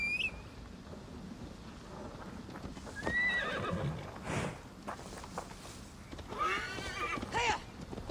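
A horse in the video game Assassin's Creed Valhalla gallops with steady clip-clopping hooves and neighs twice, once around the middle and again near the end.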